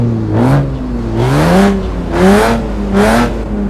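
A red Volkswagen Golf in Euro Truck Simulator 2 revs its engine in four loud rising pulses, close and dominant with a steady droning tone between the bursts.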